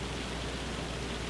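Hail falling in a farming video game set in Arkansas, a steady, dense hiss of patter with no distinct individual hits, even and unbroken, with no voices.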